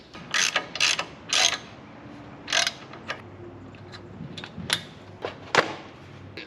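A spark plug is wrenched back into a racing mower engine with close, sharp ratcheting bursts in short uneven groups, followed by scattered single clicks and taps.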